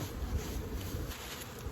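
Honeybees drone around spring beehives, a faint, steady buzzing hum close by with no voices.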